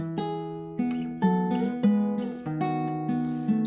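Classical guitar notes ring out with accompanying chords added above the bass, plucked in a gentle, flowing pattern.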